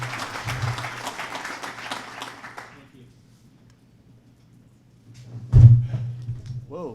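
Audience applause welcoming a speaker at a forum introduction, a dense broadband clatter of many hands lasting about two and a half seconds before fading out, followed by near silence, then a sudden loud thump and a voice starting to speak.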